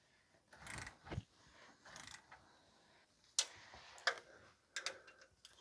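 A wrench tightens the bolts on the oil pan of a 2005 Toyota Corolla 1.8, making a run of quiet, close ratcheting clicks and short bursts with pauses between them, with no talking.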